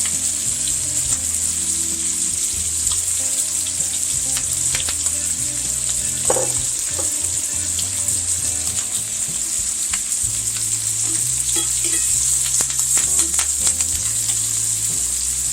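Lamb steak sizzling steadily in a hot pan with smashed rosemary and thyme stems, a continuous close frying hiss with small crackles and occasional stirring or utensil movements, no voices.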